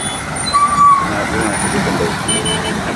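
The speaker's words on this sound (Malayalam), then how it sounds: "ആ വണ്ടി നിറച്ചിട്ട് വണ്ടി പോവുകയാണ്." A loaded vehicle pulling away, with a heavy engine rumble and a brief hissing brake whistle, while voices are heard in the background.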